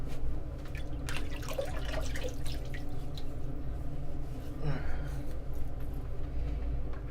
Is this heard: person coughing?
no